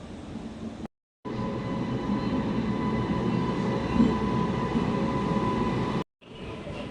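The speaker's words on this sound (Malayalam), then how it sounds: "ഇതേ ഒരു മെട്രോ ട്രെയിൻ മുകളിൽ കൂടെ പോകുന്നുണ്ട്." A metro train rolls past overhead near a railway station, a steady loud rumble of wheels and carriages lasting several seconds with a faint hum, briefly cut off at the start and end.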